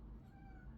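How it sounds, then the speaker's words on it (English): Charlie, a female pet cat, gives one soft, drawn-out meow, faint and a little distant, heard over a low indoor hum with no talking. "That's my cat."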